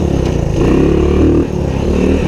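A dirt bike engine, just back from a gas tank cleaning and restoration, revs loud and close as the bike pulls away. The throttle blips rise and fall over a rough, rapid exhaust putter.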